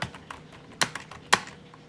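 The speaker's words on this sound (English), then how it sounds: "You can probably hear me typing" A computer keyboard clacks under someone typing at a desk while recording a podcast, giving scattered light close keystrokes with a few louder taps and no talking.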